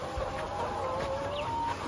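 Chickens on a poultry farm in Ghana, white and brown birds together, clucking and calling in a steady, close flock murmur that fills the whole stretch with no talk over it.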